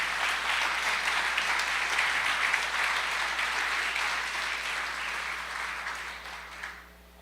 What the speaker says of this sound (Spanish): Le puede dar otro fuerte aplauso a nuestro Dios por esto.